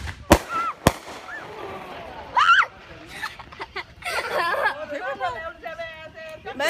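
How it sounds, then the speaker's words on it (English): Fireworks being set off near a boat, two sharp loud cracks early on, followed by crackling and pops while several people chatter and shout nearby. "we're just lighting up fireworks here"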